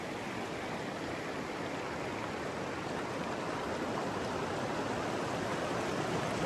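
A snowmelt mountain river rushes between peaks in Ladakh, a steady, loud broadband roar of flowing water with no voices and no let-up.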